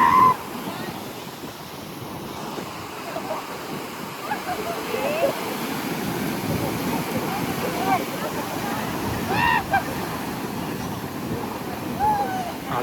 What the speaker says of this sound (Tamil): அதான் கடல் இந்த அளவுக்கு கொந்தளிக்குது.